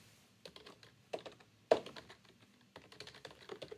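Typing on a computer keyboard while coding in Python: scattered clusters of quick, close key taps with short pauses between, one louder keystroke near the middle.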